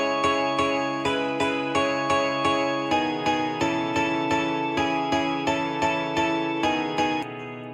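Layered Nexus and Labs guitar synth parts programmed in FL Studio for a progressive house track play a bright, plucked chord pattern that repeats in an even rhythm with no other sounds.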